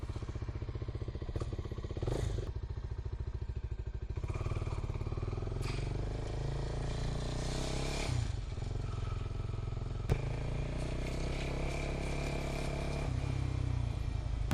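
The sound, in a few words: motorcycle riding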